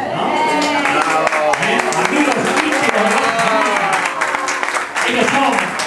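A hall audience applauds a ballet troupe from the Centro Cultural Rojas at a carnival evening. The steady clapping mixes with loud music and voices throughout.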